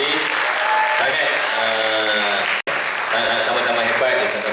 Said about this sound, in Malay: kita berikan tepukan kepada semua peserta yang telah bertanding tadi